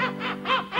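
A person mimics seagull cries for a cruise ship atmosphere on a French TV show, giving three nasal, squawking calls in quick succession, close and fairly loud.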